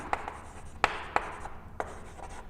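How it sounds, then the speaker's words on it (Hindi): Pen strokes on paper as notes are written by hand, a few short scratchy bursts separated by pauses, close and fairly quiet, with no voices. "इस पॉइंट में हम लिखते हैं प्रोटीन"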